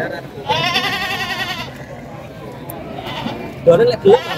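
Sheep and goats, including white Texel-type sheep, bleat at a livestock market in Wlingi, Blitar, East Java, loud and close with several calls among crowd noise and nearby voices.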